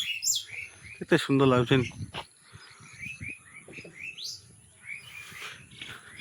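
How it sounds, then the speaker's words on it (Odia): Birds and their chicks chirp at an outdoor vegetable and fish market on a rainy day. Bright, repeated calls sound close by, while a person talks in between them. "ଛୁଆ ଦେଇଛନ୍ତି, କିଚିରି ମିଚିରି ସାଉଣ୍ଡ ହେଉଛନ୍ତି।"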